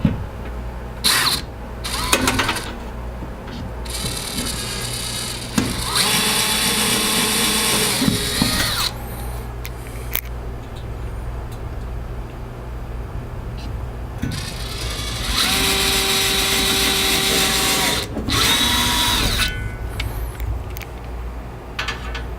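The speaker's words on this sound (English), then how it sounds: "I'll drill the pilot holes on the inside, on the middle holes." Power drill boring pilot holes into a Lionel O scale train display shelf during installation, in two sustained high whining bursts separated by quieter handling and clatter, close and loud.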